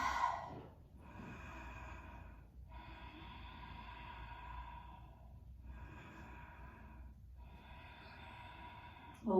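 Slow, deep breaths during a slow-flow strength yoga session, long steady inhales and exhales repeating in an even rhythm, close and soft with a quiet room hiss, no talking.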